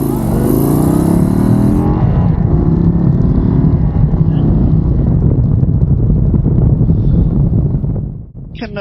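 An Indian Sport Chief motorcycle with a large engine pulls away hard, its deep exhaust rising through the gears under heavy wind rush, loud and close, then easing off near the end.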